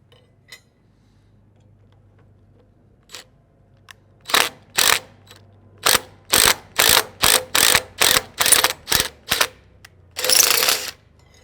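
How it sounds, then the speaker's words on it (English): An impact driver fitted with a tap threads stud holes in a shoe, firing a rapid series of about a dozen sharp, loud hammering bursts after a quiet start, ending in one longer burst. "now we're going to use our impact driver with our tap."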